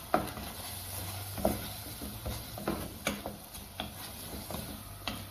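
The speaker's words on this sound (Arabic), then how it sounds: "الآن نقعد نقلب بهذه الطريقة" Sudanese fesikh being stirred in a pan, with soft scraping strokes and occasional clinks repeating under a faint steady sizzle, close by and fairly quiet throughout.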